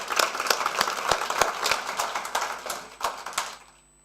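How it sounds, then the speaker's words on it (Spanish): Applause from an audience welcoming a guest speaker at a university lecture in Chile, a fairly sparse crowd clapping with distinct individual claps standing out, fading away near the end. "Un aplauso para nuestro invitado"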